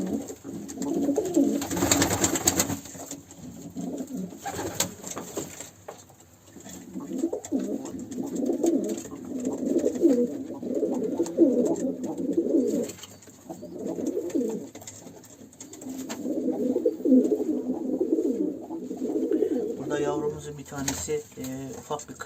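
Birds cooing in repeated low, throaty phrases close by, pausing briefly between bouts, with a short rustling burst near the start.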